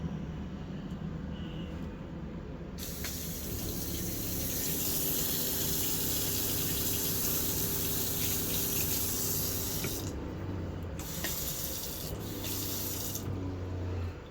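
A faucet runs steadily inside an RV on a cold winter day, a continuous close rush of water with no talking, the flow briefly dipping near the end.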